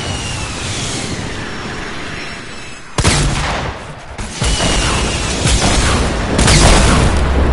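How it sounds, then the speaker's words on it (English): A rocket launcher blast in Fortnite lands as a loud sudden boom that cuts in sharply, followed by further heavy rumbling impacts and a dense roar of gunfire and explosions carrying on to the end. "I'll hit him with the rocket launcher."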